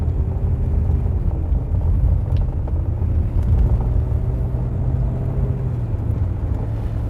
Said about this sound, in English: let's crack on the air conditioning just for a bit